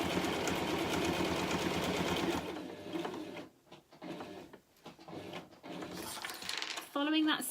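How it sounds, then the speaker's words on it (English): A sewing machine stitches together three layers of fabric for a pencil roll, running in a steady loud whir for a couple of seconds, then slowing into uneven stop-start bursts with clicks and a brief squeaky rattle near the end. "sewing all my 3 layers together"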